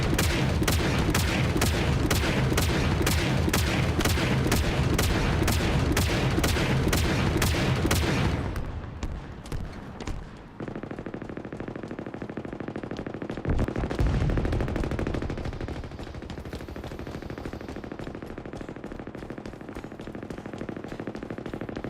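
Turret gunfire as a loud, rapid, evenly spaced burst of machine-gun shots lasting several seconds, then stopping abruptly and giving way to quieter rumbling and scattered booms.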